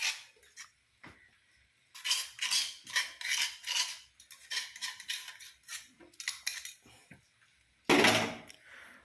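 A spoon scrapes and clinks against a pot or bowl while a spice mix of mustard, fenugreek and asafoetida is stirred into pomegranate lemon pickle. Short bursts of metallic scraping come in irregular strokes with quiet gaps and one louder clatter near the end.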